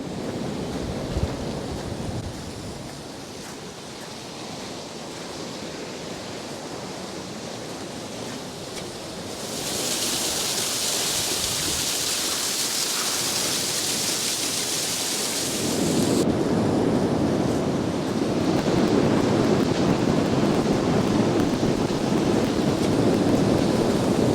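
Heavy rushing water roars continuously, like standing under a waterfall, a loud broadband wash that brightens and hisses partway through, then deepens and swells louder toward the end.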